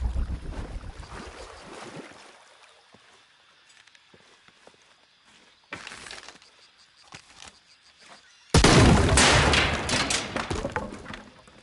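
Shotgun blasts from Shadow of the Tomb Raider, with a loud burst early on, a sharper shot near the middle, and a very loud, sustained blast near the end. Softer scuffing and movement sounds fill the quieter stretches between them.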